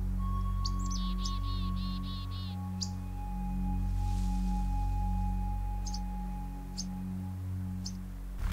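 Young flycatchers give several thin, rapid chirps and short calls near a wolf in the wild, faint over a low steady background hum.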